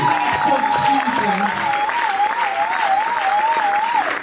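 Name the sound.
congregation cheering and applauding for Jesus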